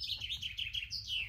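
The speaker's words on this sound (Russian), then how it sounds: "А птички-то как поют." Small birds sing outdoors by the sea, a quick run of bright chirps and trills, faint, with no voices.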